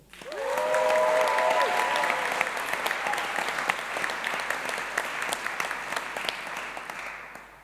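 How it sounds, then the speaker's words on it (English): Sustained applause from a large graduation ceremony audience, swelling quickly to a loud, dense roar of clapping with a few cheers early on, then holding steady before easing slightly. "Let's give a big cheer for them, please"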